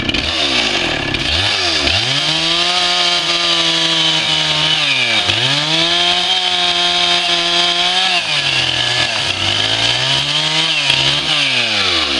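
A saw trims off a piece of wood with a loud, continuous motor drone whose pitch dips and rises repeatedly as it cuts.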